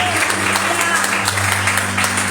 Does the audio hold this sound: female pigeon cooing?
no